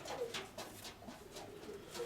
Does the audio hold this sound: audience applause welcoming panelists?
no